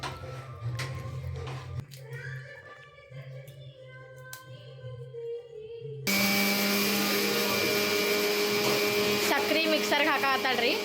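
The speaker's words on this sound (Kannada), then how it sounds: "ಸಕ್ರೆ ಮಿಕ್ಸರ್ಗೆ ಹಾಕಾತಾಳ್ರಿ." An electric mixer grinder whirs at home, grinding sugar: quiet rustling and clicks give way to a sudden, loud, sustained high-pitched motor roar that continues to the end.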